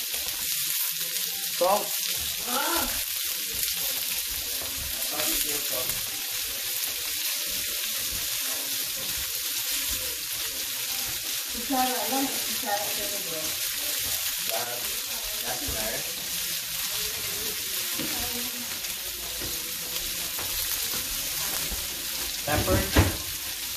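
Chicken fries in a pan of hot oil with a constant hiss and spattering crackle, close by, while a voice speaks briefly now and then over it.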